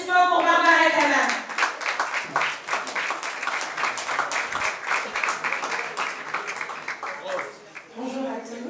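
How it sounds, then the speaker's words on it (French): A conference audience claps for an introduced guest, a dense patter of many hands that starts loud and thins gradually over several seconds, with a voice speaking over it at the start and again at the end. "Un tonnerre d'applaudissements pour Barbara Canam."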